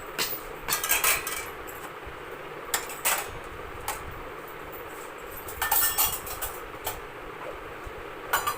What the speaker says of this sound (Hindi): बस थोड़े से बर्तन है, फटाफट बर्तन साफ़ कर दूँगी।